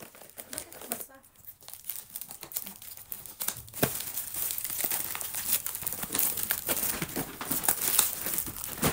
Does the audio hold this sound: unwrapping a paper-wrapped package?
yes